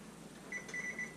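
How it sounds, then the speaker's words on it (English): Faint electronic beeps from an oven timer being set on a stove, a few short tones in quick succession over low background hum. "I'm going to set my timer for an hour"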